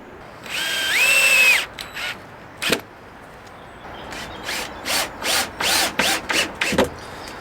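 A power drill drives screws into cabin planks: a long whirring run with rising pitch, then a string of short bursts and quick trigger pulses, close and loud, with no talking.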